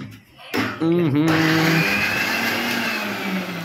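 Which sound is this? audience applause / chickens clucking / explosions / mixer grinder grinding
mixer grinder grinding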